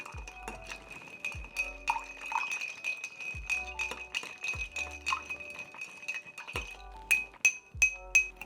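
Ice clinks and rattles against glass as a Boulevardier cocktail is stirred over a big ice cube, with a run of light, rhythmic clinks that grow sharper near the end.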